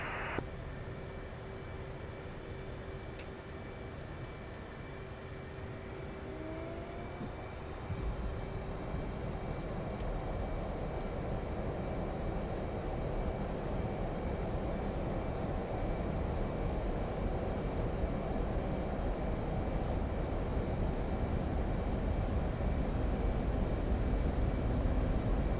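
F-18 fighter jet in the DCS flight game taking off at night: a steady, loud jet engine roar with a high whine that swells and thickens partway through as thrust builds, continuous and close throughout.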